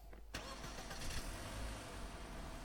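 A Russian-made vehicle's engine starting in a survival video game: a quiet lead-in, then a sudden ignition catch at once settling into a steady mid-pitched idle, with no talk.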